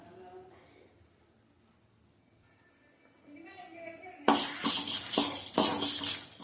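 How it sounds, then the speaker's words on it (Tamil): Coriander seeds and chillies are dry-roasted in a pan without oil, a loud dry rattling and scraping of stirring that starts suddenly after a quiet stretch, with someone speaking before it. "மல்லியும் மிளகாவும் லைட்டாக வறுத்து எடுத்துக்கலாங்க"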